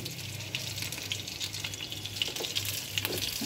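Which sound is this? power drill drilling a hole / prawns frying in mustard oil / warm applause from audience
prawns frying in mustard oil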